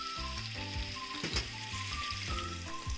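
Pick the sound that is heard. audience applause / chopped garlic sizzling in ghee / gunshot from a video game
chopped garlic sizzling in ghee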